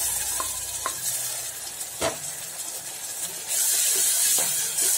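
Ground ginger paste tipped into a hot frying pan sets off a steady sizzle and hiss that swells louder toward the end, with a few scrapes of a spoon, close and unaccompanied by talk.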